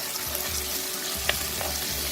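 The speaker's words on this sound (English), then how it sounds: "That's how it's perfectly frying at the moment." Garlic and basil fry in oil in a pan, a continuous crackling sizzle with a low bubbling undertone and a sharp clink of a utensil midway, close and fairly loud with no talking.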